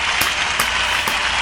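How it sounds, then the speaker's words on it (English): A crowd applauds after a live Lara Fabian Yentl medley, a steady wash of close clapping with a few louder claps standing out, no voices. "Huge round of applause."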